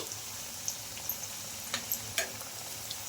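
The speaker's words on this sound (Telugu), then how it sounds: "అటు ఇటు తిప్పుకుంటూ కొద్దిగా బ్రౌన్ కలర్ చేంజ్ అయ్యే వరకు అయితే ఫ్రై చేసుకోవాలండి" Semolina snacks shallow-frying in a little oil, a soft steady sizzle with a few light clicks as the pieces are turned in the pan, close and quiet, no voices.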